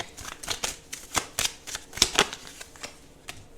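A deck of oracle cards is shuffled by hand during a tarot reading, giving a rapid series of soft, crisp riffling slaps at close range with short pauses between bursts.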